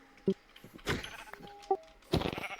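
Minecraft sheep bleat in short, nasal calls, three distinct bleats spaced across a few seconds among faint game sounds and brief bits of speech.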